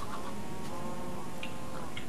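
Chickens clucking in Minecraft, a few short scattered clucks over a steady background drone of game sound.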